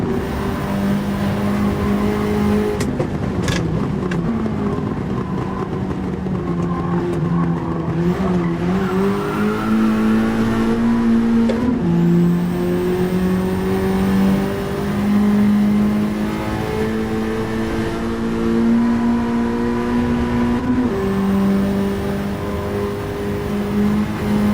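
Honda race car engine in Gran Turismo 7, a steady loud onboard drone rising and falling through gear changes, with brief tire squeal and no talking.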